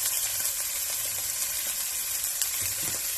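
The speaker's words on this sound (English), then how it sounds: "And then I will go in next with the onions and let those cook up" Chopped onions sizzle in hot avocado oil in a stir-fry pan, a steady bright crackling hiss that runs the whole stretch with small pops and no voices.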